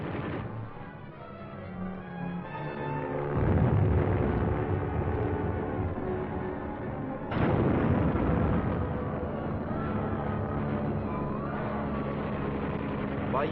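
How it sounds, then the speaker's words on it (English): Military aircraft diving on a target, strafing and bombing in Korean War combat footage, with rumbling explosions and roaring engines heard loud and continuous across the stretch, swelling at two points. "they dive on the target, strafing the enemy, bombing and burning him out."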